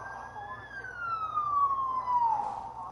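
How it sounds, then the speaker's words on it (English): An emergency vehicle siren in a PS5 video game sounds one clear wail that holds steady, then slides downward before cutting off, loud over a low rumble. "Not to mention the emergency vehicles that also didn't turn off their siren."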